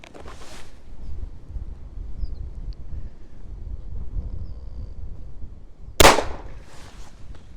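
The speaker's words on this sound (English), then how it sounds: "357 Magnum." A single sharp .357 Magnum gunshot cracks out against body armor outdoors, loud and close, standing alone above steady wind noise and rustling.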